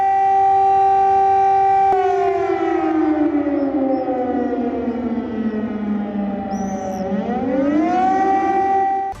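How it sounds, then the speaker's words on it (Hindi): Civil defense siren wailing over an Israeli city, a loud sustained tone that slowly slides down in pitch, then swoops back up, droning steadily with no voices over it. "इजरायल के इलाज शहर में बज रहे सायरन की ये आवाज सुनिएगा।"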